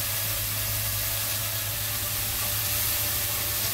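Bacon sizzles steadily in a hot pan, a dense, even hiss of fat frying close up that holds without a break and with no voices over it.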